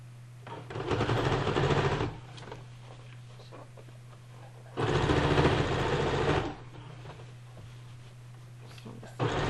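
A sewing machine stitches over cloth diaper elastic in two loud, rapid bursts of whirring patter separated by a quiet pause, close up, with a steady low motor hum underneath.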